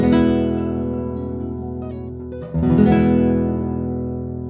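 A chord on a 1989 Richard Schneider Kasha classical guitar with a redwood top and back is muted by the back being pressed against the player's body. Two close strums each decay fairly quickly, with no voices.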